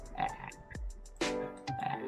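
A cartoonish frog croak from the Puyo Puyo video game sounds several times in quick, bright bursts, with a deep downward sweep between them. The sound is loud and close, with no talk over it.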